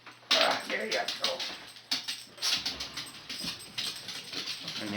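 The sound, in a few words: dog whimpering and barking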